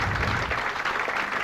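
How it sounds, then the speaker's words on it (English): A control room breaks into sustained applause as a TDF-1 satellite separates from an Ariane rocket during a 1988 launch: a dense, steady wash of many clapping hands throughout. "Everybody in the room's applauding."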